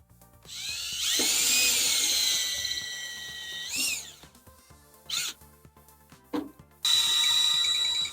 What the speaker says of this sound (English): I'm gonna put my 1/2 inch indent here and then work the rest with the drill.